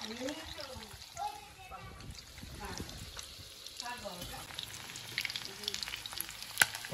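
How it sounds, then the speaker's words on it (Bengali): Small rice pakora balls deep-frying in oil, making a soft, steady bubbling sizzle under a voice, with light clatter toward the end. "এইভাবে ছোট ছোট বলের মতন করে গড়ে তেলে লাল লাল করে ভাজতে হবে।"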